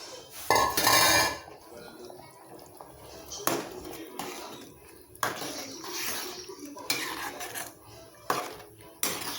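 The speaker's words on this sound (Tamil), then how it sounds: "கொஞ்சம் ஜார் கழுவி தண்ணி ஊற்றிடலாம்" A mixer jar is rinsed in a home kitchen while making dry fish kulambu, with clattering and clinking of the jar and utensils, splashing, and water poured out in uneven bursts, close by.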